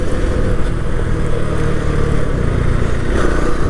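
A Vikrant V12 motorcycle is ridden through its gears, its engine droning loud and close with steady rumbling and wind noise and no voices over it.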